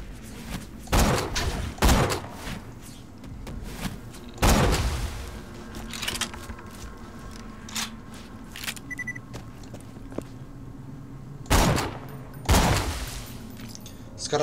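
Bursts of rapid gunfire from a gun in the shooter game Borderlands 2, several loud volleys separated by quieter gaps with game ambience and a steady hum underneath.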